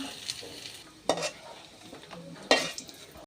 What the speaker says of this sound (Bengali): হয়ে গেছে আমার রসুন কাঁচামরিচ পেঁয়াজ ব্রাউন কালার করে ভেজে নেওয়া